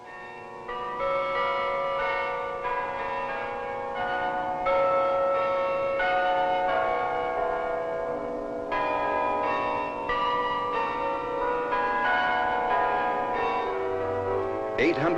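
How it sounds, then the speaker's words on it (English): The 51-bell carillon at Culver Military Academy rings out in a steady, overlapping peal of melodic bell strikes that sustains loudly throughout, heard on a 1960 film soundtrack. "The 51 bell carillon calls the Corps to worship."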